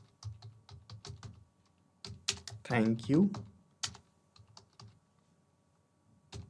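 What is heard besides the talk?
typing a message on a computer keyboard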